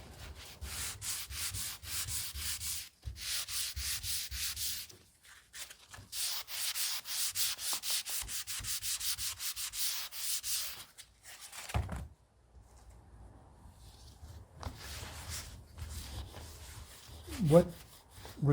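A wooden jewelry box is hand sanded with 400 grit sandpaper, with close, rhythmic rasping strokes in long runs broken by pauses, plus a few thunks and a brief voice near the end.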